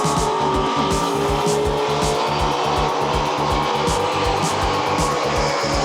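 A race car leaving a pit stop to rejoin the track, its engine a loud, steady rhythmic roar close by with a hint of tire squeal, with no talking.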